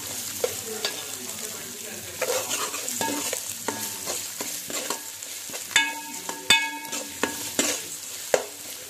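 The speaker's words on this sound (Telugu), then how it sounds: "అల్లం వెల్లిపాయ పేస్ట్ వేసుకొని మంచిగా మిక్స్ చేసుకోండి" Onions stirred with ginger garlic paste in a pan while making keema iguru, a spoon scraping repeatedly with a light sizzle beneath, close and steady with sharper clinks toward the end.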